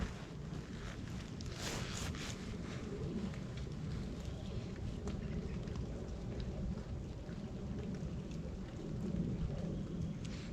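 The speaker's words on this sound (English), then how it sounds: "I don't like being out here in the rain" Steady rain falls outdoors with rolling thunder rumbling low and continuous beneath it, plus some wind buffeting the microphone over roughly ten seconds; no one speaks.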